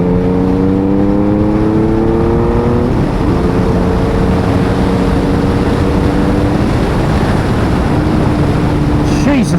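The rebuilt engine of a Honda Valkyrie 1500 motorcycle drones loud and close on a test ride, holding steady with one shift in pitch partway through under heavy wind rush.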